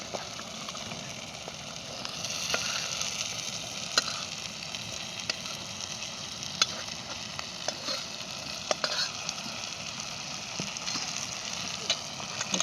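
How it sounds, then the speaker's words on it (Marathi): Prawns hit a fried masala paste in a pan over a wood-fired clay stove, giving a steady close sizzle with occasional stirring scrapes and small pops throughout. "आता वाटण परातल्याच्या नंतर मी त्याच्यात कोलंबी टाकून घेणार आहे"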